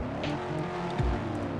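Base model Ford Mustang engine in a racing video game, a steady droning hum with a brief louder swell near the end, heard alone without talk.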